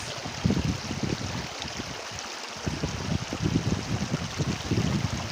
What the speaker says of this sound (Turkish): Şu ırmağın huzur veren sesini dinlemek, dinletmek istedim.